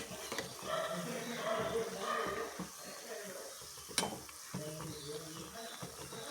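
Khoya sweet pieces (kheer gaja) frying over low gas in a pan while being stirred, a continuous soft sizzle with scraping and a sharp utensil tap partway through.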